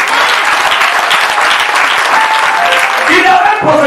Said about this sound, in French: Est-ce qu'on peut acclamer les femmes ce matin?